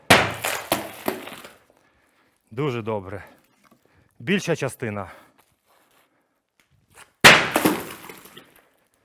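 Objects are thrown at tempered glass in a safety demonstration of laminated and tempered panes, giving sharp loud impacts with crashing and tinkling debris at the start and end, while someone speaks between the hits.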